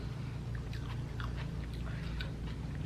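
Close chewing of crunchy, sweet, liquidy coleslaw made from finely chopped cabbage, with soft repeated crunching bites over a steady low background hum.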